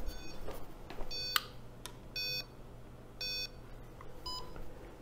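A race timing system sounds short electronic start beeps, a few spaced tones standing out against a low background hum in an otherwise quiet room.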